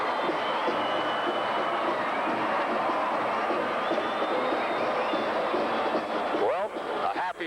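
A football crowd on the north side of a stadium, at a championship game between Fallbrook and Vista, roars in a continuous, distant wash of cheering that swells and then tails off near the end.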